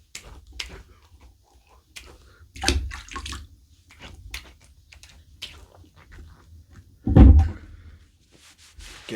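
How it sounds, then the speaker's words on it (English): Water splashes as shaving soap is rinsed off a face, in irregular close wet dabs and trickles with one heavier splash near the end, no talking. "then I'm going to rinse it off"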